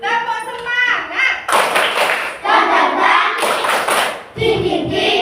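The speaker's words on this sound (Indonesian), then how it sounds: "Kita tepuk semangat dulu ya. Tepuk semangat." A standing class does a rhythmic spirit clap in a classroom, bursts of loud group clapping and thuds alternating with children chanting and talking.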